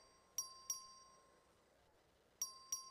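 Two pairs of sharp electronic bell dings sound in a legislative chamber as a record vote is called. They ring out clearly over a quiet room with a faint high tone beneath.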